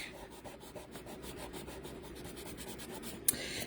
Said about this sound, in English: Let's bring back this trusty sand rubber, see if I can get rid of these marks.